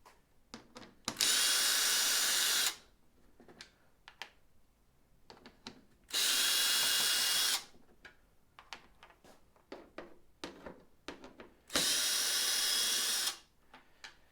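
A power drill spins out the three T25 Torx screws holding the non-functional hood scoop on a Yamaha RMAX 1000 side-by-side, in three loud, steady whirring bursts of about two seconds each, separated by soft handling clicks.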